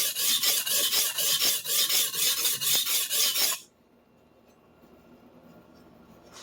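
A kitchen knife drawn across a whetstone in steady strokes, a rhythmic series of close, bright rasping scrapes that stops abruptly, leaving quiet room tone.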